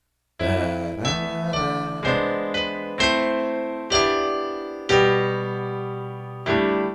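Piano chords struck one after another, each ringing and decaying before the next, a suspended chord resolving to a dominant seventh, played alone and clearly.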